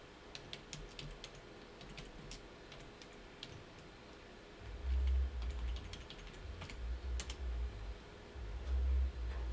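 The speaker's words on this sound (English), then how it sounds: "I'm going to type it in" Quick, light key clicks of typing on a computer keyboard come in scattered bursts over a low background hum, with a few heavier thumps partway through.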